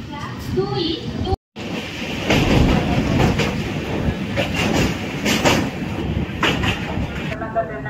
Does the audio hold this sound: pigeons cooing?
no